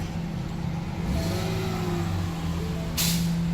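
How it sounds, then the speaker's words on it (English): A 2014 Ford Fusion sitting on a tow truck starts with a newly cut flip key. The engine catches about a second in and runs on as a steady low drone, with a brief hiss near the end. "and the car starts."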